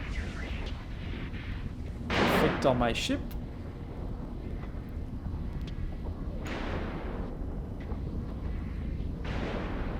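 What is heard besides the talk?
explosions in EVE Online video game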